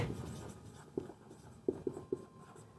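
Chalk or pen writing on a board during a physics lesson on motion and acceleration, heard as a few sharp taps and short strokes spread over about three seconds, fairly faint, with no talk over them.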